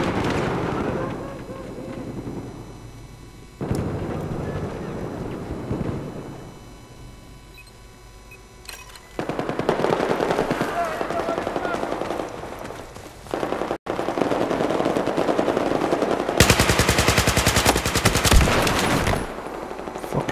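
Gunfire in the video game Battlefield 4 during a Domination match, with bursts of loud automatic fire that start and stop in sustained stretches across the round and a very dense rattling volley near the end.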